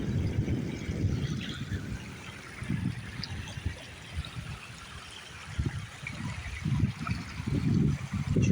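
The San Antonio River flows and trickles along a washout outdoors, with uneven gurgling surges and splashes of water close by.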